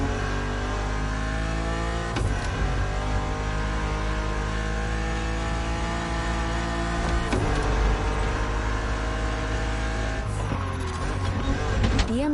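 A BMW Z roadster in The Crew Motorfest gives a loud, steady engine drone with smooth revving, and sharp gear-shift breaks come about every few seconds as it accelerates.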